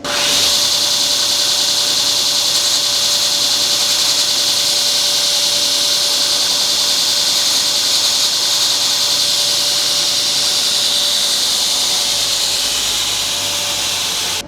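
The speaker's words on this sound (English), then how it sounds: "And I'll take that in and just grind it back slightly, and it's ready to go." A re-forged pritchel tip is ground back on a power grinder, giving a steady, loud, continuous hissing whine that holds evenly for the whole stretch with no talking over it.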